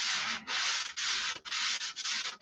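Sanding the finish on a control line stunt plane: five long, even back-and-forth strokes of abrasive rubbing, close and loud, with short pauses between them and no voices.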